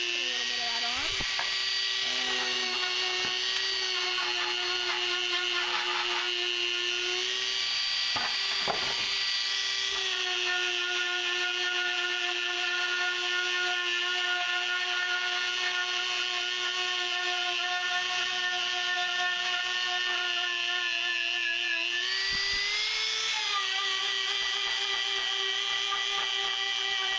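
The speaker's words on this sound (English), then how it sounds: "now I'm gonna try doing buffing. So I have some buffing compound right here" A Dremel 4000 rotary tool buffs with buffing compound, giving a continuous high-pitched whine that dips and shifts in pitch as it loads against the work, with occasional talk.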